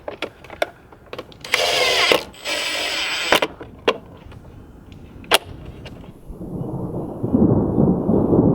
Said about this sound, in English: What a beautiful storm.